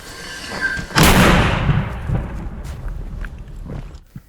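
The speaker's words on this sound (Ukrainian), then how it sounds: "Постріл!" One heavy mortar boom strikes after a low background hum, followed by a drawn-out rumbling decay and a small sharp knock near the end.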